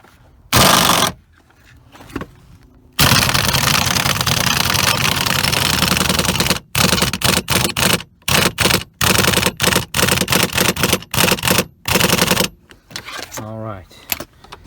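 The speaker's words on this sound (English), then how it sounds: "I'm just gonna get my 1/2 inch or 13mm impact gun and tighten that all the way in there." A 1/2 inch impact gun tightening a bolt on a 2015 Ford Taurus seatbelt retractor fires in loud bursts, one long rattling run followed by many short rapid hammering pulses separated by silence.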